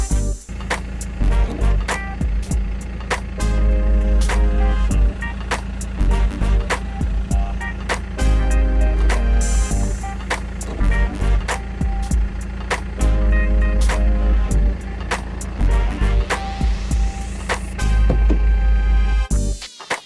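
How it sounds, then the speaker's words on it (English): A BMW engine idles steadily while the car sits locked, a low constant hum running throughout with clicks and brief electronic tones from the car's locking and systems on top, no voices. "You can also leave the car with the engine turned on and lock the car."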